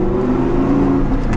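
Audi R8 V10 Plus engine running close by, a loud steady throaty drone with a sustained rumble and no pauses, heard alone without talk.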